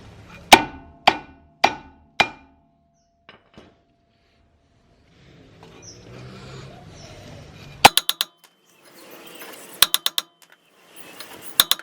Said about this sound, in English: grab a hammer and a timber and start hitting this side